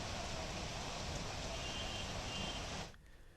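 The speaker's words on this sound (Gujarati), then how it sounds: "ધીમી ધારે વરસાદ અનેક વિસ્તારોમાં આવી રહ્યો છે" Light rain falls steadily across many areas, a soft even hiss of drops that continues alone for nearly three seconds and then cuts off abruptly.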